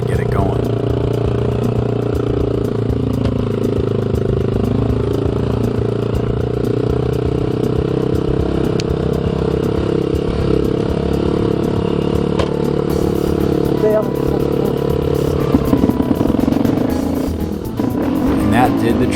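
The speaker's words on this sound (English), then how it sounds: "Dave's bike was flooded and wouldn't kickstart, so they decided they'd have to tow start the thing in order to get it going." A flooded dual sport motorcycle is tow started, its engine running rough and steady throughout with clattering and faint revving, a continuous drone that swells slightly near the end.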